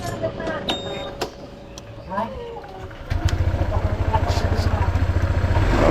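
A motorcycle engine starts and runs unwarmed right after a trip, a steady loud idle with a fast pulsing beat that grows slightly louder, following a few seconds of people talking and handling noises nearby.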